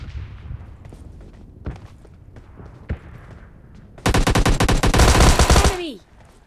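Gunfire in the PUBG Mobile Lite video game. Scattered single shots and footsteps come first, then a loud sustained burst of automatic fire that ends abruptly, with no voices.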